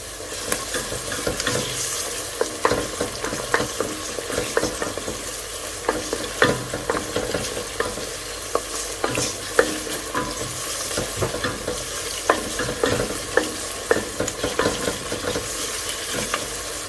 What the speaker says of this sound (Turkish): Şimdi salça koyalım. Salça ile beraber de kavuralım.